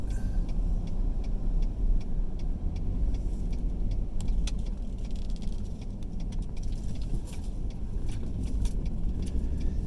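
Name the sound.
car driving while towing a subcompact backhoe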